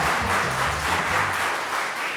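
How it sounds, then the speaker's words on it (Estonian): Audience applause at a student campus party show, dense clapping from a crowd filling the space at a steady, loud level throughout. "Rahvast plaksutage!"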